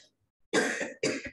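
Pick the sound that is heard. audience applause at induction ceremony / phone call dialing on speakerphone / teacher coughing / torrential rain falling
teacher coughing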